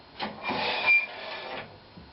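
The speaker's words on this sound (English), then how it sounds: "150 sandpaper, and I'm just gonna" Hand sanding a green oak bowl with 150 grit sandpaper, heard as a close, steady rough rubbing with a few strokes that swell and fade over about two seconds.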